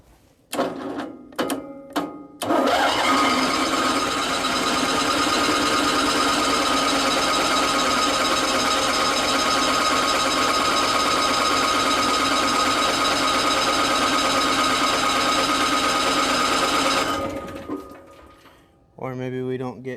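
An old generator on a racecar trailer, left sitting for over ten years, is cranked in one long, loud, steady churning run after a few brief clicks, then it stops without catching.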